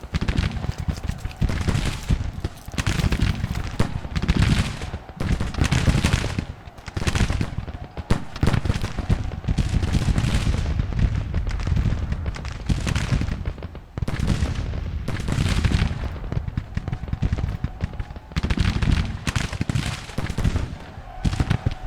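Massed Civil War musket volleys crackle and roll continuously in the Grand Tactician battle, dense overlapping shots forming a loud, unbroken fusillade with brief lulls between bursts.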